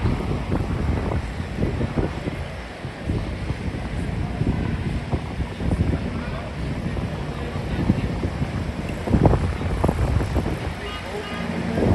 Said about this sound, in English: Man, it's crazy windy this year.